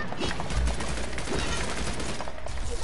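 Gunfire in the video game Realm Royale, a continuous rattling burst of rapid shots with heavy low booms, loud and close, running without pause.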